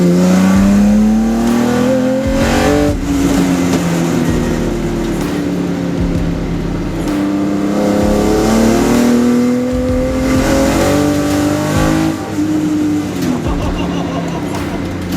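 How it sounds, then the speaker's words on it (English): Car engine accelerating hard during an underground night run, a loud steady roar whose pitch climbs gradually across the run, close and continuous throughout. "Now I'm starting to feel the power kicking in, and I can start to feel that this is a powerful middle-class car."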